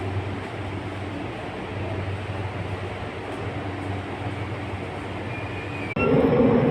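Steady low rumble and rattle of a train running, heard from inside the carriage, continuous and fairly loud with a brief squeal near the end as the noise swells louder.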